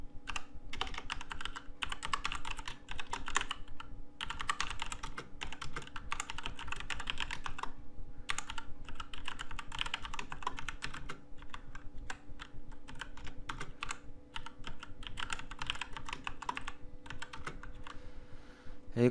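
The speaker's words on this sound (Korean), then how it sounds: "시간이 진행될 동안 미리 코드를 타이핑 해 놓겠습니다." Someone types code on a computer keyboard in a steady stream of close, crisp key clicks with brief pauses, under a low constant hum.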